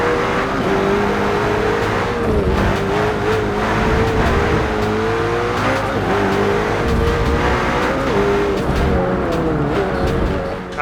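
A McLaren 720S pulls away from a standstill, engine note climbing steadily under loud, constant road and wind roar with faint tire noise, no talking.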